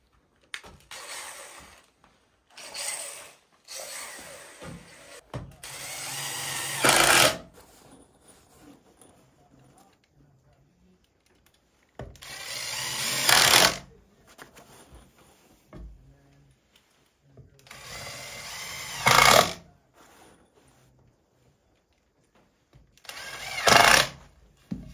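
A cordless drill drives screws during cabin loft construction, with several loud whirring bursts of a few seconds each separated by quieter pauses of handling noise, all close by.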